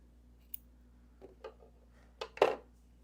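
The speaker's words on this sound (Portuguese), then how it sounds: "vou cortar aqui o meu fio" Scissors snipping knitted T-shirt yarn after crochet work, a few soft clicks followed by one sharper crisp snip, close and quiet with a faint hum underneath and no talk.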